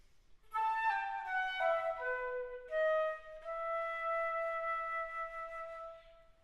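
A solo flute plays a few descending notes, then holds a long, soft note with gentle wavering Baroque-style flattement vibrato in a quiet room.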